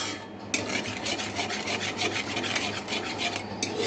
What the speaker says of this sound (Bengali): যতক্ষণ না তেলটা ছেড়ে আসবে ততক্ষণ এটা নাড়তে থাকবে।